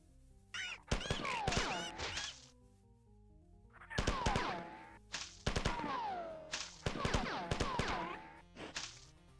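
Close-range weapon firing in a video game, a security officer's gun: repeated loud sharp bursts of shots in several clusters spread across the clip, with no speech over them.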